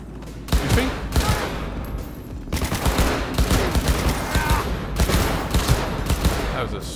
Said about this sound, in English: That was a sweet, sweet grenade.